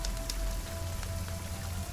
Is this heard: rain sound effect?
yes